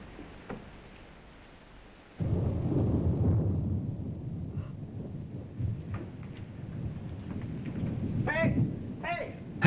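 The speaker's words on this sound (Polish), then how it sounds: "Grzmot." Thunder in a summer storm: a sudden, heavy low rumble breaks in and rolls on for several seconds, loud and close, with a voice speaking briefly near the end.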